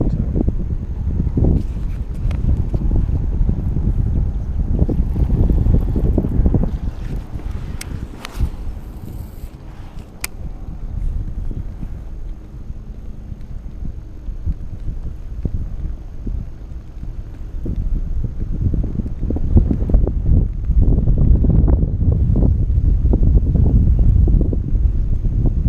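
Steady wind buffets the microphone out on a kayak while bass fishing, a continuous low rumble with gusty swells that build louder toward the end.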